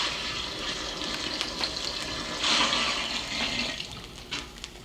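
A gallon of water pours into a witch's cauldron with a continuous rushing, splashing gush that swells slightly midway and holds for about five seconds, with no talking.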